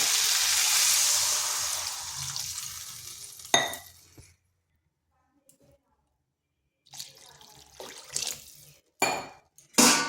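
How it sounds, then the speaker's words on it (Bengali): Water pours into a cooking pan for a small-fish curry with gathi kochu, a steady rushing splash for about three and a half seconds, then quiet broken by a few close clinks of utensils and cookware. "এরপর এখানে দিয়ে দিচ্ছি জল।"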